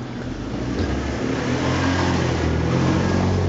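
A car drives up a street in the town of Colunga, its engine note swelling steadily and staying fairly close throughout, with no voices.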